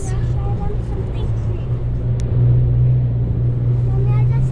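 A Navara drives on the sand of Fraser Island with a steady, low engine rumble heard from inside the cabin, while people talk over it.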